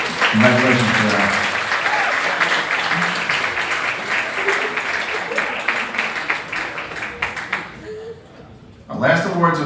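Sustained crowd applause at a school athletic achievement ceremony, loud and steady for most of the stretch before thinning out, with voices and light laughter mixed in and a fresh burst of clapping at the end.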